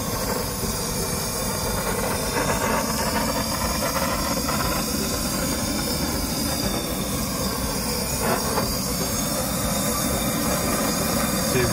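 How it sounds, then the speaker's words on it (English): A ribeye steak is seared with a torch flame, a loud steady roaring hiss that stays constant and close throughout without a break. "I'm gonna start searing."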